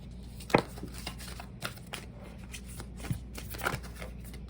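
Tarot cards are shuffled by hand in repeated soft riffling and slapping bursts, close up, with a few louder snaps and no talking.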